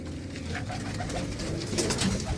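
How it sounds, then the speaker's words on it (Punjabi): Pigeons cooing close by, soft repeated throaty coos overlapping in a steady murmur with a little background noise. "ਇਹ ਨੇ ਕਬੂਤਰ"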